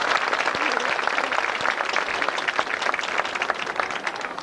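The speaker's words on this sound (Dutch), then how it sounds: "een applaus voor de 2 dames" An audience at a Flemish stage comedy show gives a steady round of applause for two women, dense clapping that carries on evenly throughout.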